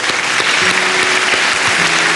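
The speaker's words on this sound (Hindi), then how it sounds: "बहुत बहुत तालियां इन बच्चों के लिए" An audience claps for a group of children, a loud, dense burst of applause up close with a few faint tonal hums underneath.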